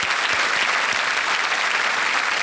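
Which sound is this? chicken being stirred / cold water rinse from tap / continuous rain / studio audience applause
studio audience applause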